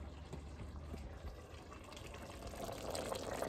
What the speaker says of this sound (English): we're gonna add just a tad bit of water